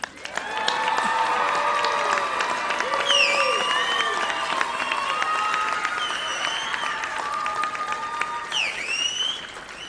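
An audience at a spring nursing graduation and pinning ceremony applauds warmly and continuously, with scattered cheers and whoops rising above the sustained clapping.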